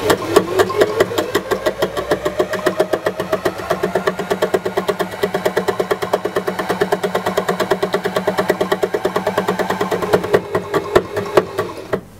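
An embellishing machine runs steadily under foot-pedal speed control, its needles punching fabric in a fast, even mechanical chatter that holds constant throughout and slows slightly near the end.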